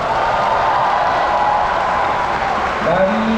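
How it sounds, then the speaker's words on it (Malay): Loud, continuous applause from a large audience at a university convocation ceremony, dense clapping and crowd noise throughout with a faint tonal sound near the end. "Pada majlis convocation ini, kita berikan tepukan gemuruh"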